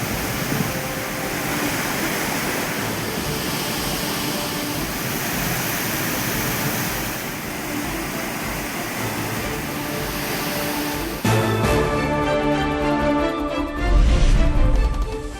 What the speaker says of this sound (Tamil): மேற்கு தொடர்ச்சி மலைப்பகுதியில் பெய்த கனமழை காரணமாக மணிமுத்தாறு அருவியில் நீர்வரத்து அதிகரிப்பு.